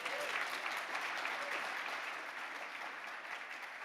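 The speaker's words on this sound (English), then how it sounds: "let's give them a round of applause" An audience at a Laudato Si movement gathering at Centro Mariapolis applauds the event workers: a fairly faint, even, continuous patter of many hands that eases slightly toward the end.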